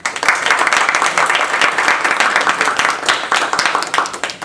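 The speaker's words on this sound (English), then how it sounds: "Please give a warm applause to distinguished Professor John Reed." A lecture audience applauds Professor John Reed at a 2012 brown bag talk, dense steady clapping from many hands close by, sustained without pause.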